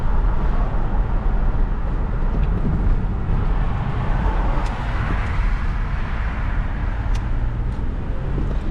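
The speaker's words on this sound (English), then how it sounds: "an example of doing double clutch downshifting while braking" A manual-gearbox car heard from inside while braking and double-clutch downshifting, with a continuous loud rumble of engine and road noise, subtle revs rising and falling, and a few faint clicks.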